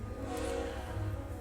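A train passes very close to a house, producing a steady low rumble with faint tonal hum, heard indoors at a distance and fairly quiet.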